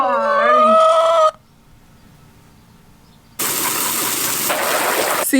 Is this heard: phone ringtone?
no